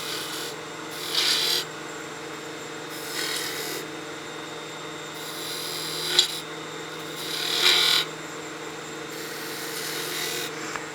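Spindle gouge making a small V-cut in a wooden practice piece spinning on a wood lathe, with several rasping, scraping tool passes over a steady motor hum and no talk.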